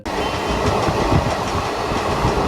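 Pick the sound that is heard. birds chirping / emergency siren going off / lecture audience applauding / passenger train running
passenger train running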